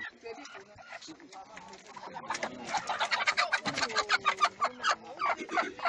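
Laying hens being handed out to families in Cameroon cluck and squawk close by, with a rising run of rapid, loud clucks in the second half over a background of voices.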